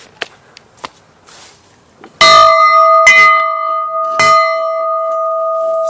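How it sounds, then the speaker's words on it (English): A few faint knocks, then a loud bell clangs three times, each strike ringing on with a long sustained tone. "Did you hear the bell?"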